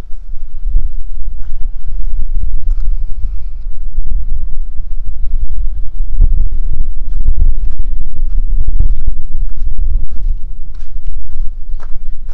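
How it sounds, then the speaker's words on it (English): Gusty wind roars across the microphone at the abandoned ruins of Sanquhar Castle. A heavy, steady low rumble rises and falls in gusts, with faint scuffing steps mixed in and no speech. "I'm sorry about the wind, guys."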